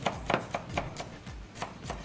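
A knife finely chops dill on a cutting board, about ten quick, even taps in a steady rhythm, close and distinct.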